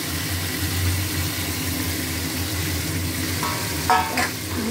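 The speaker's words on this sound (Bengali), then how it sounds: "এর ভেতরে দিয়ে দিলাম মাছের মুড়োগুলো ভেজে রেখেছিলাম।" Fried fish heads stir-fried in a pan with cumin, ginger, salt and turmeric, giving a loud continuous sizzle with a low rumbling background and a couple of scraping stirs near the end.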